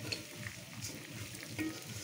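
Rice fries in a little ghee, giving a quiet, soft sizzle with a few light stirring scrapes and no voices.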